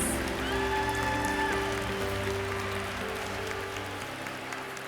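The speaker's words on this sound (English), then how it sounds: "One more round of applause." Audience at an award dinner for outstanding Asian American business leaders applauding the honorees, a soft, steady patter of many hands clapping in a large room, fading slightly toward the end with a faint tone underneath.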